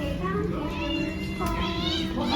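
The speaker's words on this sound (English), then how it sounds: "It's a cat choir now." Several cats meowing in overlapping, rising and falling calls, close and fairly loud, with a few short cries in quick succession and faint background chatter.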